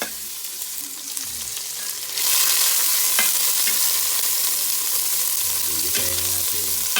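Onion, ginger and tomato sauté in a hot pan, a loud steady sizzle that jumps in intensity partway through, with scraping stir strokes and a few clinks of utensil against the pan.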